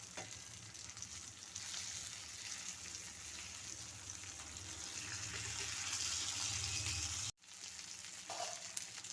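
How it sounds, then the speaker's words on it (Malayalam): Fish fries in hot oil in a covered pan over low flame, a dense continuous sizzle with faint stirring scrapes, broken by one brief silent gap before the crackle resumes. "ഇപ്പോൾ നമ്മൾ മീനൊക്കെ ഇവിടെ ഫ്രൈ ആയി കിട്ടിയിട്ടുണ്ട്"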